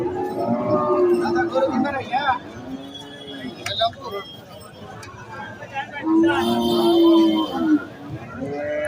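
A Deshal breed bull moos twice in long, low calls at a cattle market, the first early and the second near the end, while people talk nearby throughout.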